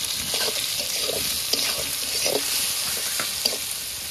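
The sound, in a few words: fish frying and sizzling in a pan, spices added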